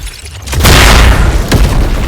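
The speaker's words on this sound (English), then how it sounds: "The next one is Plasma Cannon again." A Plasma Cannon blast in the video game The Strongest Battlegrounds, a loud sustained booming roar that swells after a quieter start, with a second burst near the end and no voices.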